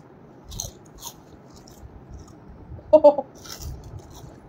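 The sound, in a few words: person chewing food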